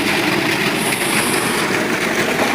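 A 5 HP electric motor driving a water pump for irrigation runs steadily, a loud continuous mechanical drone with broadband rushing noise, close and unbroken throughout.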